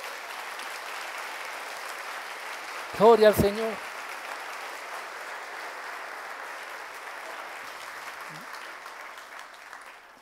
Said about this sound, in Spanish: ¿Alguien puede darle un fuerte aplauso a Jesús por ello?